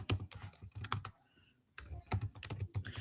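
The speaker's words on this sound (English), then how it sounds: "I'm just typing stuff in Facebook." Rapid clatter of keys on a computer keyboard, close and fairly loud, in uneven bursts with a short pause in the middle before the typing resumes.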